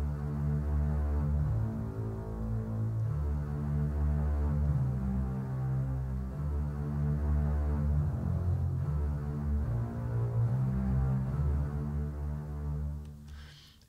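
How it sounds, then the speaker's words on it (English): A double bass playing alone in a cinematic adventure-action piece, with a sustained, low, droning bowed line and slow pulsing swells that stay steady and loud before fading out at the end. "now let's listen to the double bass on its own"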